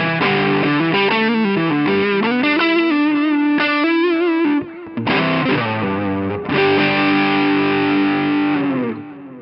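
Electric guitar played through a Vertex UltraPhonix overdrive pedal, loud saturated chords and sustained notes ringing with a thick upfront distorted tone, a short break midway, then more held chords fading at the end.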